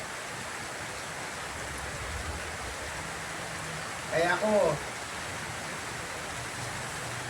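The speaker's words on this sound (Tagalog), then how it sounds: "Ayan, umulan na naman. Naku, lakas na ulan." Heavy rain falls steadily as a dense, even wash of noise throughout, with a brief spoken phrase over it midway.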